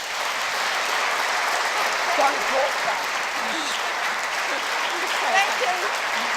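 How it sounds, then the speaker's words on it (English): Audience applause fills a university Three Minute Thesis competition prize-giving: steady, dense clapping from a crowd, sustained and fairly loud throughout, with a brief spoken word near the end. "a huge round of applause and thanks for what she's done"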